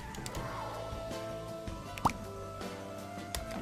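A single clear raindrop plops midway through a soft background of gentle musical tones in Scribblenauts Unlimited, with a few fainter ticks around it.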